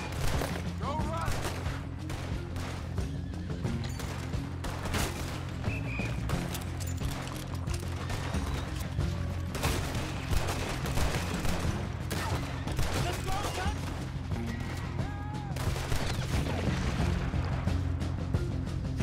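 Dense, steady gunfire rattles through a shootout in the Western video game Red Dead Redemption, with rapid overlapping shots running throughout and someone talking over the battle.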